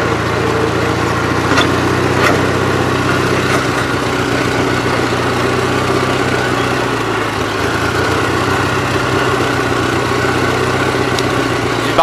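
A Gravely 8163-T walk-behind tractor engine runs steadily at a loud, close idle, with a rough, pulsing mechanical throb that holds throughout and carries no talk.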